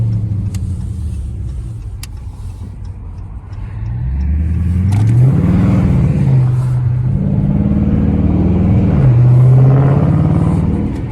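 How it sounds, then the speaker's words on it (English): A 5.7L Dodge Charger R/T's V8 engine accelerating hard on a city street at night, a low rumble building into loud rising revs with a couple of gear changes, heard up close from inside the car. "Trying to tell y'all, the RT pulls."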